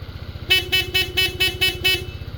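The stock horn on a KYMCO Dink R150 motorcycle honks in seven quick, evenly spaced beeps over the low putter of an idling engine, close by.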